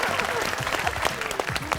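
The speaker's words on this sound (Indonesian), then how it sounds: "Kita kasih tepuk tangan untuk Madam." A studio audience claps through a game show, giving a brief burst of close, dense applause with a crowd murmuring under it.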